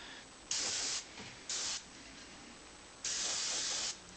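Airbrush spraying a thin, fast basecoat of paint, heard as three bursts of steady hiss: two short sprays followed by a longer one, each stopping abruptly, close and fairly loud over a quiet background.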